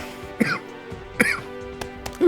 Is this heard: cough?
yes